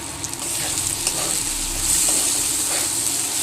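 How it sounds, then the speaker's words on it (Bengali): Lentils (dal) fry in a curry wok with a continuous close sizzle and hiss, a faint scrape of stirring, the frying swelling slightly louder midway, with no talk. "তরকারির কড়াইটাতে ডালটা সাঁতলাচ্ছি তো তাই এরকম লাগছে।"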